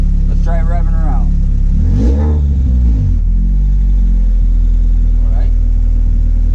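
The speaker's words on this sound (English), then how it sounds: "Let's try revving her out." A 1992-96 Honda Prelude with a swapped engine rumbles low and steadily, swelling briefly as it revs, with someone speaking over it at times.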